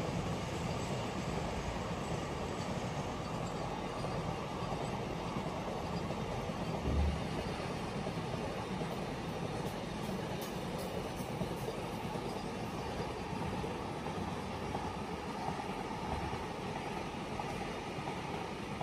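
Freight train hauled by an Indian WAG-12 electric locomotive passing, a steady moderate rumbling roll of wagons continuing throughout without talk.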